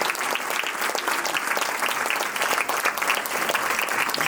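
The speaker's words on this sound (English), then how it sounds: "You should give a big applause to Subha and Arun." Steady, dense applause from an audience at a prize distribution and honoring ceremony for the Sangeetha Aradhana music festival in Nashville, continuing evenly without a break and with almost no talk.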